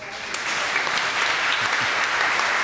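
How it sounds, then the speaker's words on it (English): Dense, sustained applause from a radio show audience, a continuous wash of clapping at even loudness throughout. "Keep the applause going."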